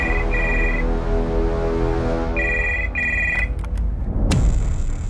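A telephone rings during a phone call, giving two clear double-trill rings over a steady background, followed by a click and a rustle near the end.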